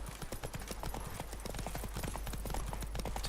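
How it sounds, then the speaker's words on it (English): Roach, the horse in The Witcher 3: Blood and Wine, trots with steady clip-clopping hooves, a continuous rhythmic run of hoof strikes up close over a constant low game ambience. "бронірована лошадка"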